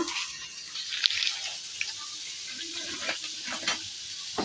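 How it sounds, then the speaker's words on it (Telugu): Butter sizzles in a hot pan for a bread omelette: a steady, close hiss with faint clinks and soft scrapes, no talking. "అదే ప్యాన్లోకి కొద్దిగా బటర్ వేసుకుంటున్నా."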